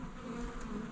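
Honeybees drone in a steady, dense buzz around an open foundationless Layens or long Langstroth hive during an inspection, close and continuous with no talk.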